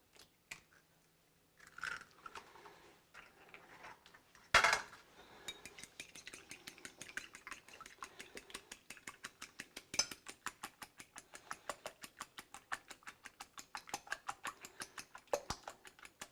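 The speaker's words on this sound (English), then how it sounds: "I need to beat another couple of eggs" A couple of eggs are beaten in a bowl, a fast steady run of light tapping clicks from the whisk or fork against the bowl, soft and close, following a few scattered kitchen knocks.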